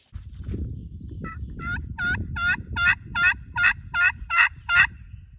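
A turkey call with a striker produces a run of about eight sharp, evenly spaced yelps that grow louder, over a low rumble of background noise.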